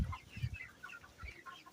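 Chickens cluck in a quiet poultry farm brooder area, several soft, overlapping calls scattered at a moderate distance with low bumps and shuffling beneath.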